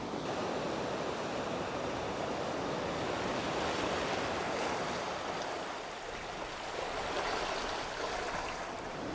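Continuous sea surf washing onto a coastline at evening with a falling tide, a steady broad rushing roar with gentle swells in loudness, wind buffeting the microphone, no voices.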